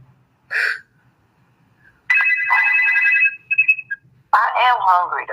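A phone ringtone rings in bursts: a short electronic chirp, then a longer steady tonal ring, a brief pause and another stretch of ringing, loud and close, with quiet gaps between.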